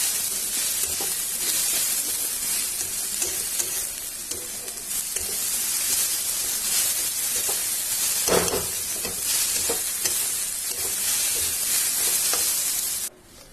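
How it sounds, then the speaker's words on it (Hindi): Moong dal sizzles and fries steadily in a hot pan while it is stirred, a loud, continuous close hiss with occasional scraping of the spoon, cut off abruptly at the end. "मूंग दाल को हम तब तक मिलाएंगे जब तक वो थोड़ा सा गोल्डन ब्राउन नहीं हो जाता।"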